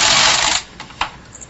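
A knitting machine carriage is pushed across a row while knitting tuck stitches, a loud sustained mechanical swish and clatter for about half a second, followed by a couple of fainter clicks.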